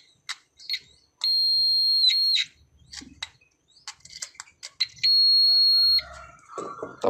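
An AVO meter beeping while its probes touch a black stone being tested for uranium, two sustained clear electronic tones, each about a second long, amid faint tapping and handling noises.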